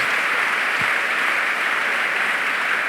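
A church congregation applauds in a continuous, dense roar of clapping that stays loud and steady throughout. Many hands are clapping together, with no voice standing out.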